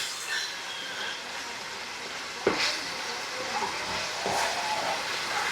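Tomatoes sauté in a pan for tomato rice with a steady, soft sizzle, broken by a couple of sharp spoon knocks against the pan.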